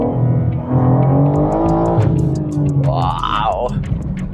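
A BMW M4 sports car engine revs up hard through the gears, a loud rising roar close by with a quick shift midway, then climbing again.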